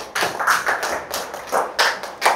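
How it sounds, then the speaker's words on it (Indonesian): Schoolchildren in a classroom lesson on food chains clap their hands in uneven, thumping bursts, the claps loose and ragged and rising and falling over a couple of seconds. "Oke, tepuk tangan untuk kalian semuanya."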